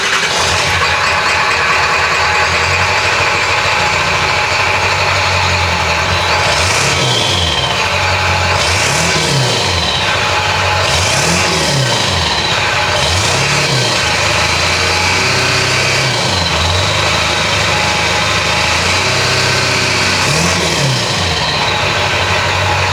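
A 7.3 Powerstroke diesel truck fitted with a Hydra Chip tuner idles loud and close, with a steady clattering rumble and a series of rising and falling revs in the middle.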